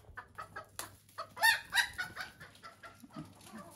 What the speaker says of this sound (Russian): Не трогайте этих петухов уже.